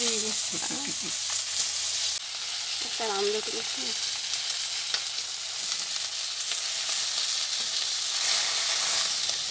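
Potatoes cooking in a pan in a home kitchen, an even, continuous frying sizzle close by, with brief bits of voice in the first few seconds before the sizzle carries on alone.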